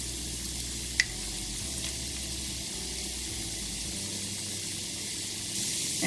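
Chicken wings brown in a pan with a constant, fairly quiet hissing sizzle, one sharp click early on, and a low rumble underneath.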